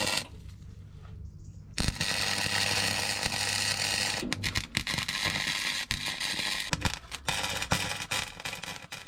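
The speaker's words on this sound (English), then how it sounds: "I could remove the magnets and run welding beads all the way round" MIG welding beads laid on rusted floor metal of a 1998 Fiat Ducato motorhome, a steady close crackling sizzle broken into short sections by brief pauses.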